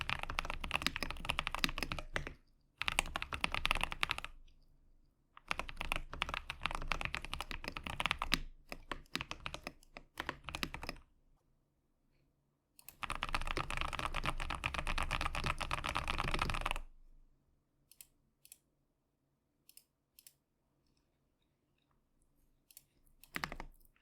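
Fast clattering keystrokes on a computer keyboard during Java programming come in long dense bursts separated by pauses, then thin out to scattered single taps, close and clear with no talk.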